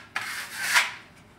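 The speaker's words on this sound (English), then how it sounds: "I'm going to move the trowel down in the south position, doing a little bit of a squiggle." A trowel squiggles across wall texture material, a short close scraping rub that swells and fades twice with no talk.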